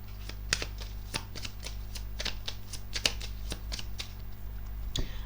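Tarot cards shuffled and drawn in a steady run of crisp riffling snaps and flicks, close and alone, with a final sharper card placement near the end.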